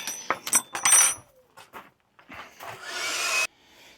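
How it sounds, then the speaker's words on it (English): Blower clearing debris off a worktop table in a workshop where an oak butcher block worktop is being cut, short bursts of rushing air with knocks and rattles, ending in a longer steady blast. "Right, clear the table off. Give that blower, Ricky, please."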